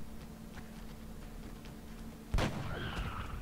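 A single sharp sniper rifle shot fires partway through gameplay in the tactics video game XCOM, a sudden loud crack with a rumbling tail over a steady low background hum.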